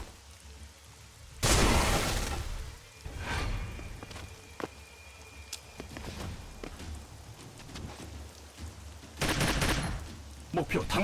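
An ice grenade thrown in the tactical game Troubleshooter: Abandoned Child bursts with a loud shattering crash, scattered crackles follow, and a second burst hits near the end.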